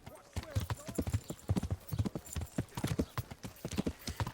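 Horse hooves clip-clopping in the video game Kingdom Come, a steady run of close, fairly loud hoofbeats repeating for several seconds with some voice mixed faintly underneath.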